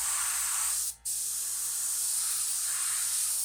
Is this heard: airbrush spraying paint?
yes